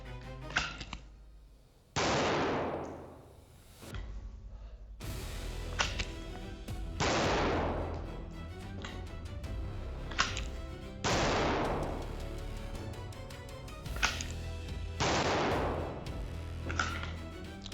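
Loud pistol shots from a shooting training drill ring out one at a time, each sharp crack followed by a decaying echo, about five or six spaced a few seconds apart with no talking.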